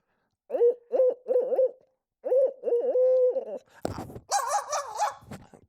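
Owl hoots imitated by mouth as a turkey-hunting locator call, a series of loud hooting bursts in two phrases, then a harsher cawing sequence at the end, outdoors with no talking.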